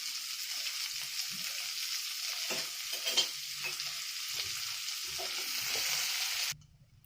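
Chopped onions with a little salt fry in a pan with a steady, close sizzle, broken by occasional stirring scrapes, before cutting off abruptly near the end.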